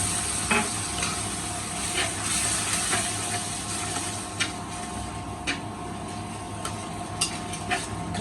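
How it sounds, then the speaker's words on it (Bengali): Ginger and garlic paste being fried in a pan for a taro-leaf dish with hilsa head, with a steady sizzle and occasional stirring scrapes throughout. "মিনিটের মতো মশলাটা আমি কষিয়ে নিচ্ছি"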